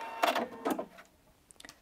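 A sewing machine back tacking over bias binding, two short bursts of rapid stitching followed by a few faint clicks and taps in a quiet room.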